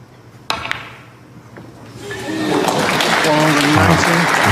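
Snooker crowd at the Northern Ireland Open breaking into applause during a long break, clapping swelling from sparse to a steady dense roar over the last half, with a sharp knock early on and murmuring voices beneath.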